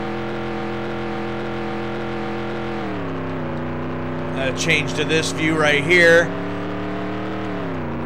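A race car engine in NASCAR 98 on PlayStation drones steadily throughout, a continuous harmonic hum that shifts pitch slightly, with someone talking over it and a brief burst of squealing, clattering game effects near the end.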